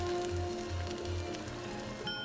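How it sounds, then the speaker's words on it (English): An omelet poured over tomatoes sizzles in a hot pan, a steady close crackling hiss with a low pulsing hum beneath and no talking. "pour that omelet right over it. Oh, it's sizzling up"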